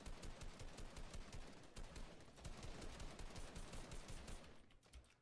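Heavy gunfire rattles through a battle royale video game match, with rapid automatic bursts and overlapping shots forming a dense, continuous barrage that fades near the end.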